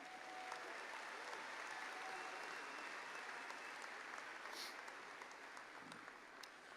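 Sustained audience applause at an MBA graduation ceremony honoring graduates, a steady wash of many hands clapping at moderate distance, fairly even throughout with no voices over it.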